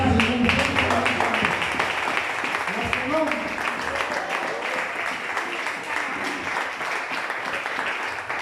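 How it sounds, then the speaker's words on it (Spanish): A church congregation applauding, with sustained clapping from many people that runs throughout while a voice speaks over it. "Fuerte los aplausos para ti."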